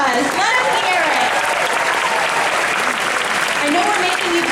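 A large audience applauds steadily at Disney's Hollywood Studios 35th anniversary ceremony, the dense clapping loud and sustained throughout, with voices and cheers mixed in.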